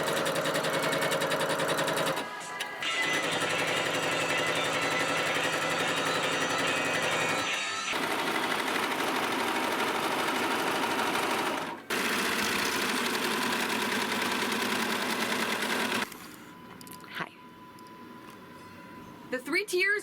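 A sewing machine stitching a tiered dress runs in long, loud, rapid bursts separated by short pauses, and the machine winds down toward the end.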